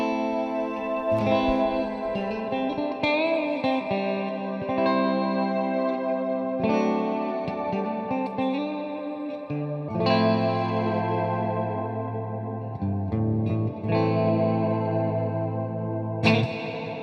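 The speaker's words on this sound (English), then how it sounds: "I'll noodle on just the reverb side for a minute, just so you can hear it." Electric guitar notes ringing through a lush shimmer reverb, shimmering high overtones and long washy tails sustaining continuously under slow, meandering playing.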